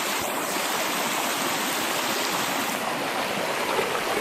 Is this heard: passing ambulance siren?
no